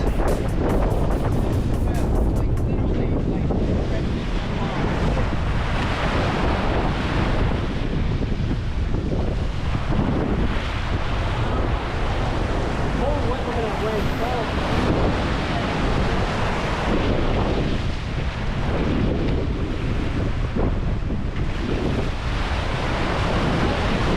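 Rough seas and strong wind on a sailboat offshore, with steady loud wind buffeting the microphone over continuous crashing waves and water rushing past the hull throughout.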